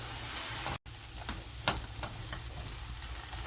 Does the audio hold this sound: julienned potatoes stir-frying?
yes